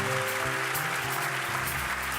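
A church congregation at a French-language Saturday miracle service cheers and applauds in a dense, sustained wash of clapping, loud and continuous throughout with no gaps.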